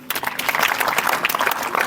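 A short burst of brisk, fairly loud applause from an audience at a community honouring ceremony, dense clapping lasting under two seconds.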